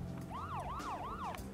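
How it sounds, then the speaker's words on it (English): A wailing car siren from the video game Deadly Premonition, rising and falling in three steady sweeps, loud and continuous over a low engine hum. "Hit the sirens."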